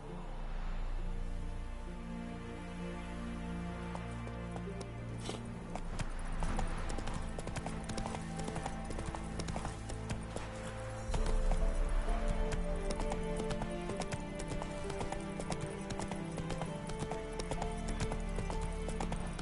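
Roach the horse gallops in The Witcher 3 with steady, rhythmic clip-clopping hooves, loud and close. A soundtrack and game effects play underneath, and a brief whinny may sound.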